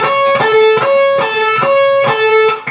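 Distorted electric guitar plays a riff, with repeated picked notes in a steady rhythm, loud and close with no voices.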